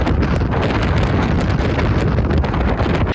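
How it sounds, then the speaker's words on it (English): Strong, steady wind buffets the microphone at the Cliffs of Moher, a loud, continuous roaring rush with no pause and no voices. "it was very cold because it was super windy, like 41 miles per hour wind"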